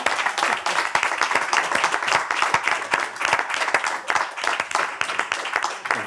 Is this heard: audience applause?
yes